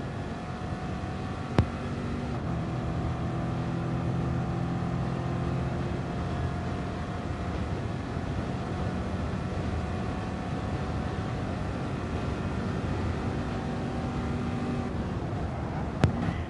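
Onboard race car engine in a racing game endurance event at Fuji, a steady loud drone with sustained engine tones that shift slightly in pitch, with a couple of brief sharp clicks.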